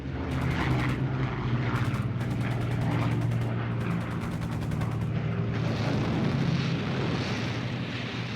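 A Hawker Hurricane IID anti-tank fighter, the propeller-driven version used at El Alamein, drones steadily overhead, its engine a loud, continuous roar with a throbbing pulse throughout.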